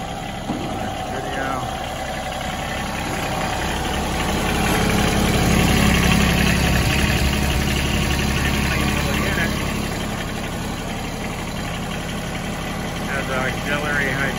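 The diesel engine of a Kubota RTV 4x4 utility vehicle runs at a steady idle up close, with a low continuous rumble that swells briefly in the middle and a voice speaking over it.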